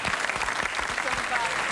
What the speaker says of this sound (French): on peut applaudir Ophélie Winter